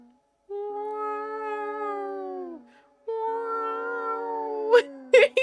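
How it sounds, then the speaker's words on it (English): Cats yowling in the middle of the night: two long, drawn-out wailing calls, loud and close, then a few short, sharp bursts of noise, with no talking. "This is my cats in the middle of the night, lol."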